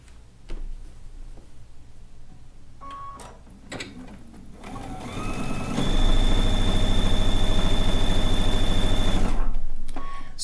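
A sewing machine stitches a seam in bucket hat fabric, starting with a few clicks and short bursts before settling into a loud, steady, close motor whir for several seconds, then slowing at the end.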